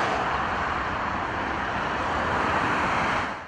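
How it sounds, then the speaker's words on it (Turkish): Steady road traffic noise on a main road in Istanbul, a continuous broadband rush of passing vehicles at an even level with no voices, fading slightly at the end. "Araç seslerinin duyulduğu yerlerse ana yollar, bağlantı yollarıydı."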